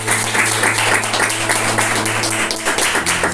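A Pentecostal church congregation claps during a healing service, steady dense applause under a low droning tone, with a voice faintly mixed in.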